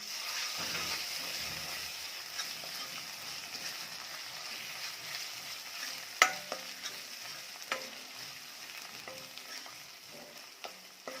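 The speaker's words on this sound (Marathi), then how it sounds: "यामध्ये आलं लसूण पेस्ट टाकायची आणि ती देखील छान परतून घ्यायची आहे" Ginger garlic paste sautéing in a pan with Kolhapuri onion garlic chutney for a drumstick recipe, a soft, faint sizzle with occasional spoon scrapes and light clinks.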